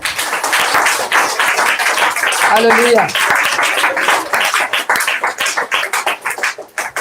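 Loud, continuous clapping from an audience at a Christian worship gathering in Varanasi, with a voice calling out over the dense applause.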